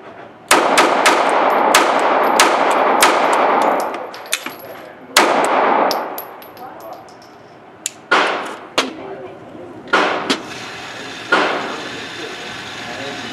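Gunshots strike a body armor vest in the chest area during a torture test, first a fast string of sharp impacts with ringing metallic clangs, then slower scattered single hits with pauses between them.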